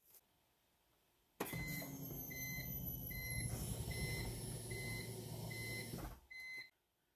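The fuel pump of a BMW E46 turbo build runs one priming cycle: after near-silence, a sharp onset gives a steady electric whine and hum lasting several seconds, then it stops abruptly with a brief final burst.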